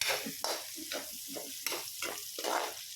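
Smoked fish (tinapa) added to a pan with pork, garlic and onion for ginataang gulay, giving close sizzling and frying with rhythmic stirring scrapes throughout.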